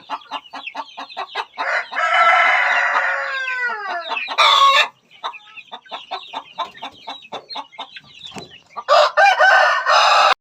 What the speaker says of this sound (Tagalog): natakot sila sa ingay ng ibang manok